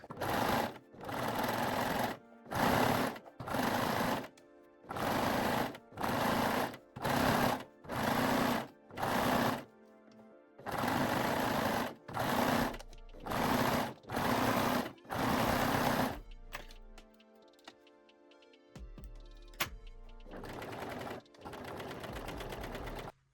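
A sewing machine stitches elastic onto lace-back Brazilian panties in a run of short, loud bursts with brief pauses between them, ending in quieter handling sounds and a few small clicks.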